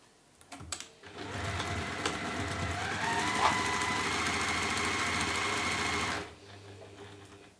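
Sewing machine stitching down the seams of a waxed market trug: a close, steady mechanical whirr that starts after a few clicks, runs for about five seconds and then stops.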